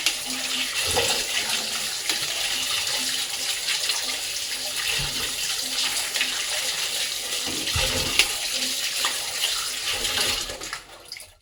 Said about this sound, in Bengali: ধুয়ে আলু ধুয়ে একদম পরিষ্কার করলাম,